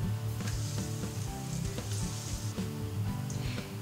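Salted, meaty mushroom pieces frying in oil in a pan give a steady, close sizzle with soft crackling pops throughout, alone without any talk.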